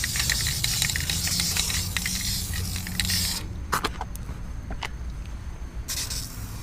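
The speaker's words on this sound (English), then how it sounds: "Oh, I sprayed my filter." Aerosol can spraying a cleaner over a Duramax diesel truck's air filter and frame, a continuous broadband hiss for the first few seconds, then shorter separate bursts with pauses between them, close and loud.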